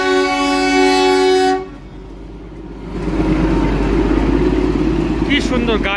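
The Darjeeling toy train gives a long, loud, sustained horn blast that cuts off partway through. The train's rumble then builds as it passes nearby, and a brief voice is heard near the end.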